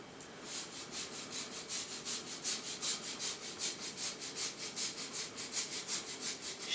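Small pieces are shaved down with a micro plane for bubble hash down to the trichome heads, producing a steady, close rasping scrape repeated in even strokes, roughly three per second, with no speech.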